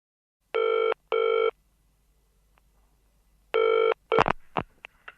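A telephone bell rings in two short double bursts separated by a pause, loud and close, followed by a clunk as an answering machine picks up.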